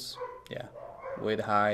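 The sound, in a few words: dogs barking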